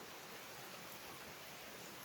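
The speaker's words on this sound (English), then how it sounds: "here comes the rain." Steady rain that is picking up, a dense even hiss of drops on surfaces outside a workshop, continuous and moderately loud for a couple of seconds with no talking.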